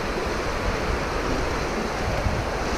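Water pours below the spillway at Brady's Run Park in Beaver County, Pennsylvania, a steady, dense, loud rushing wash with no letup.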